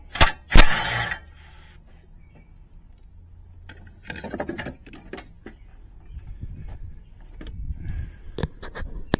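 Bolts come off the AC condenser of a 2004 Hummer in sharp metallic clicks, clinks and ratchety rattles. The loudest bursts come near the start, then scattered close tapping and clatter follow, with no talking.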